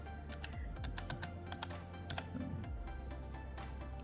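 Someone taps the vehicle VIN for a BMW E90 M47 into a computer keyboard in a garage setting, with quick, uneven keystrokes clicking steadily, close and fairly quiet over a low hum.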